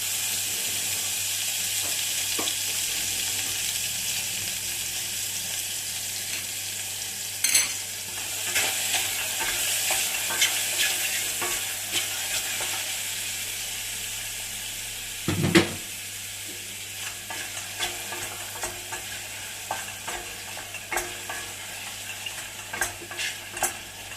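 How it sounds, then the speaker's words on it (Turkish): Mushrooms sauté in butter in a pot with a steady close sizzle, broken by occasional scraping stirs and clinks of a spoon against the metal. "Bir güzel kavuracağız arkadaşlar."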